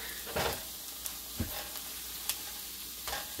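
Eggs frying in browned butter in a pan, a steady close sizzle with a few sharp spits and crackles scattered through.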